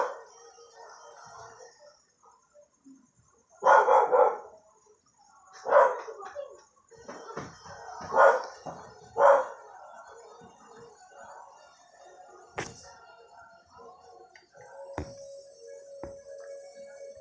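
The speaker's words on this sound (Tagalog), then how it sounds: "Maingay yung aso, guys." A dog close by lets out several loud, drawn-out barks and howls spaced a couple of seconds apart, with quieter background noise between and a faint tonal hum near the end.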